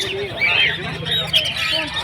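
Caged cockatiels and budgerigars at a bird market give busy squawks and chirps, overlapping against a continuous low hum of background noise.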